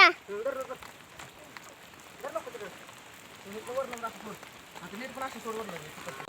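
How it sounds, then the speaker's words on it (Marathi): Steady heavy rain hisses throughout while people talk intermittently nearby. "कसला एक जोरात पाऊस आला"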